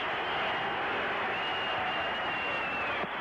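Stadium crowd at a Denver Broncos at San Diego Chargers football game, a loud continuous roar of noise filling the stands, heard from the broadcast booth without pause.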